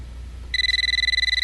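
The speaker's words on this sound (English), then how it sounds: "A ringing phone." After a brief quiet hum, a telephone in a video game starts ringing with a rapid, trilling electronic warble, steady and fairly close.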